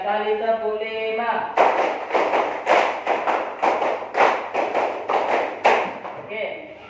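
Students in a classroom group clap a rhythmic pattern three times over, about a dozen loud, sharp clapping bursts in a steady beat, with a teacher's voice before and after.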